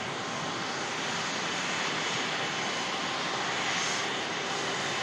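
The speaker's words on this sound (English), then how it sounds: "watch this aircraft taxi out for departure to Beijing" Hainan Airlines A330 taxiing out at Manchester Airport for departure to Beijing, its jet engines giving a steady, loud broadband roar that holds even throughout, with no voices.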